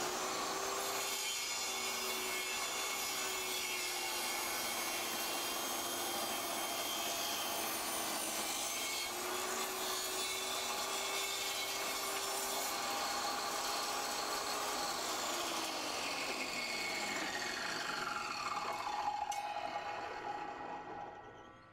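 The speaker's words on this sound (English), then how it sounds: "And we plug in the table saw." A table saw runs with a steady whine while cutting a piece of wood, the pitch shifting slightly as the piece is pushed through, then the tone winds down near the end.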